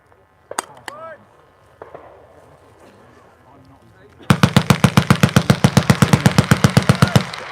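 A Vickers machine gun fires a steady rapid burst of evenly spaced loud reports at close range, after a few scattered metallic clacks and handling noises with faint voices nearby.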